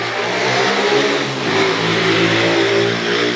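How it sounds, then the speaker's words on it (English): On a street in Paraguay, a motorbike engine revs loud and close, its pitch climbing and then dropping midway as it keeps up a steady buzzing drone. "And there is a lot of noisy motorbikes around here."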